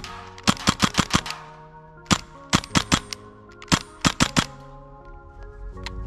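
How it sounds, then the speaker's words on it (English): A gas-powered gun fires a full-auto magazine dump: several rapid bursts of sharp, loud cracks with short pauses between them, close by and with no talking. "So let's just mag dump this real quick."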